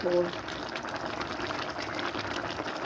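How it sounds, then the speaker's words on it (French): Basting liquid is poured over a chicken and olive tajine with preserved lemon, giving a steady, continuous trickle and gush of liquid from start to finish at moderate loudness. "N'hésitez pas à arroser, ça va absorber et ça va confire tout ça."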